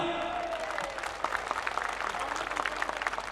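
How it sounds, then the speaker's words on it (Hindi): Students at the MIT Utkarsh 2022 college cultural fest break into loud applause, a crowd of clapping hands building into a dense, rattling burst after a voice fades out. "तो एक बार ट्रस्ट के लिए जोरदार तालियां।"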